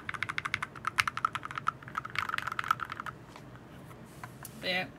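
Close mechanical keyboard typing on a Boardsource Lulu with a deep, poppy thock, a rapid run that thins out after a few seconds, followed by a brief rustle.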